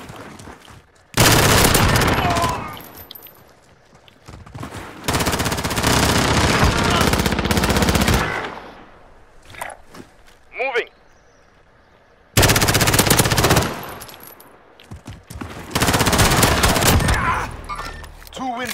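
Bursts of automatic gunfire in the shooter game Gunfight, loud sustained sprays lasting a few seconds each, separated by quieter gaps with brief single shots, while players chat over it.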